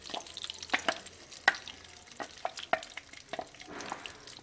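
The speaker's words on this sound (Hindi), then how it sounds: "और अब हम जो दाल की पेस्ट है उसे घी में डालेंगे।" Moong dal paste goes into hot ghee for halwa and is stirred, with a soft quiet sizzle broken by irregular spoon clicks and scrapes against the pan.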